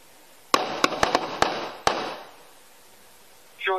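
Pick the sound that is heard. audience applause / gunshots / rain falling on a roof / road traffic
gunshots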